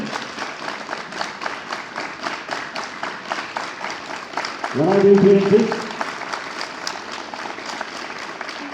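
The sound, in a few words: students clapping together in rhythm at assembly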